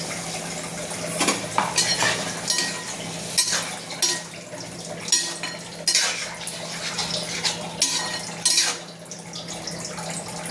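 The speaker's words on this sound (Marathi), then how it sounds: "आता याच्यात अर्धा ग्लास पाणी टाकू।" Half a glass of water is poured into mixed vegetables cooking in a pan, bringing a steady sizzle and liquid hiss with repeated clinks of a utensil against the pan, close and fairly loud, with no talking.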